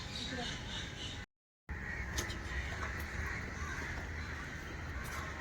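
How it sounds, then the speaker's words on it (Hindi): Crows caw faintly and sporadically at the Delhi Craft Museum, a few distant calls rising over a constant outdoor murmur with voices in the background. "इतनी सुंदर सुंदर आवाज़ें आ रही हैं पंछियों की, कौवों की"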